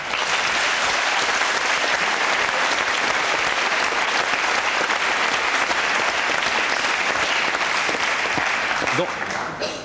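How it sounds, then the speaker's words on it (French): Studio audience applause on a French television talk show: a loud, dense, continuous burst of clapping from a large crowd holds steady for nearly ten seconds before easing slightly at the end. "Donc je vais vous demander d'applaudir Véronique pour lui donner un peu de courage."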